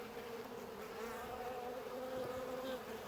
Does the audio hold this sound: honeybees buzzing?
yes